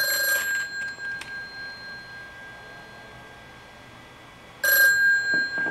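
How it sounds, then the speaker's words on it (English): A telephone bell rings in a short burst, pauses through quiet room tone, then rings again, loud and close, before going to voicemail. "that phone is ringing"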